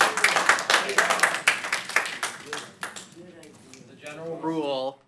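Audience members clap at a Royal Oak city commission meeting, a lively burst of applause lasting a few seconds before it fades and a voice starts speaking.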